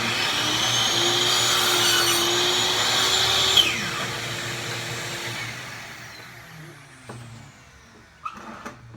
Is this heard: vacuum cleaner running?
yes